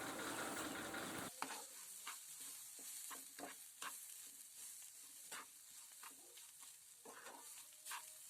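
Semolina and water get stirred in a pan, with repeated scraping strokes of a spoon against the pan bottom at an irregular rhythm over a quiet bubbling sizzle, heard close with no talking.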